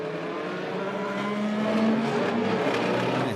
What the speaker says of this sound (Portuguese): ainda com carros na pista.